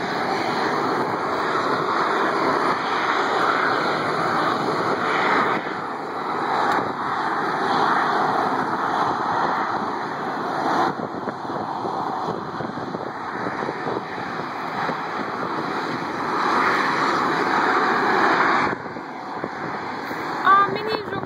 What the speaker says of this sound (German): Ah, Mini-Jumbo startet gleich. Da, Pushback.